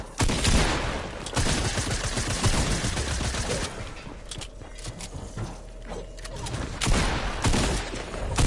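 Dense, continuous gunfire from an online shooter game crackles throughout, rapid bursts layered over each other at steady loud volume with no pauses.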